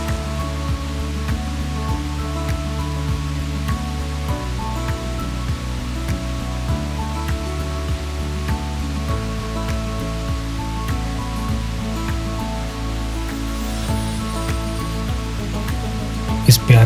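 Fast-flowing water near a root bridge in rainy Meghalaya, a dense steady rushing roar that holds throughout at an even level, with no clear voices.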